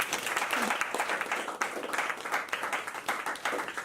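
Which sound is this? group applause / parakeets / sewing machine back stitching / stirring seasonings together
group applause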